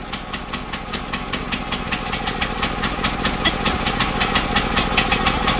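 A Hyundai four-stroke engine runs with its choke pulled out, a steady close putter of rapid regular firing pulses that holds loud and even throughout, with no voices over it.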